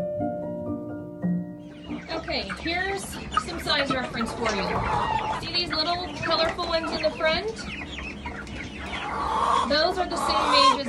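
Flock of meat chickens and laying hens, nine weeks old, clucking and squawking continuously and fairly close, with busy overlapping calls throughout.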